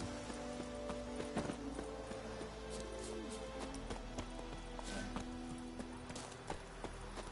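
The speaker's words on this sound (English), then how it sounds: "God damn it, Vesemir, you're always leaving your horse in the fucking way." Horse hooves clip-clop in steady rhythm in the video game The Witcher 3, faint under a continuous background hum and scattered clicks.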